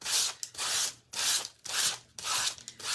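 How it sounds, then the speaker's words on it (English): Sandpaper rubbing back and forth across a piece of fabric for a handmade primitive star craft, five steady scratchy strokes in a regular rhythm, close and moderately loud with no talking. "I'm going to sand this piece of fabric"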